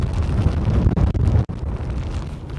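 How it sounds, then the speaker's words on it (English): Strong wind at SpaceX Starbase in Boca Chica, Texas, gusting past 30 miles an hour, roars as steady, loud broadband buffeting against the microphone, with a few brief dips but no talk. "This is maybe the windiest I've had it in a long time."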